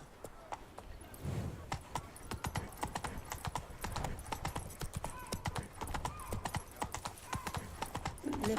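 Hooves clip-clop in a quick, steady rhythm as a horse runs in The Witcher 3: Wild Hunt – Blood and Wine, with a brief whinny near the start. The gait stays close and continuous for the whole stretch, with no talk over it.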